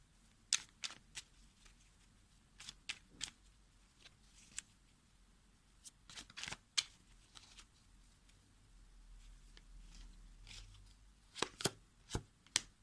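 Tarot cards are handled and drawn in quiet, brief papery snaps and flicks scattered irregularly, with a quick cluster of sharper card slaps near the end and no talking.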